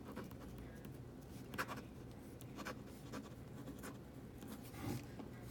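Pilot Better stick ballpoint pen in medium writing on paper: quiet, soft scratching strokes with occasional faint taps, close up and alone.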